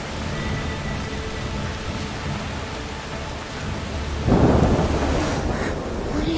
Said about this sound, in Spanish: La lluvia empeora.